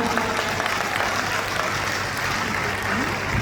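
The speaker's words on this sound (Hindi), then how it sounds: "गिरिराज के लिए तो ताली बजाओ सभी लोग" Audience at an Amit Shah political rally in Bihar claps in steady, dense applause that fills the whole stretch at an even, loud level with no break.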